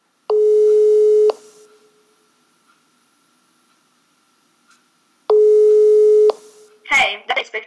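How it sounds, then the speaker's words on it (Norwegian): A telephone ringback tone sounds while an outgoing call is placed: two loud, steady one-second tones separated by a long silence, followed by a brief burst of voice at the end. "Jeg ringer inspektør Snusesen."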